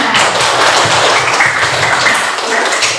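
Students in a classroom clap together for a group that has just presented, a close, dense and steady patter of hands that fills the room from start to finish.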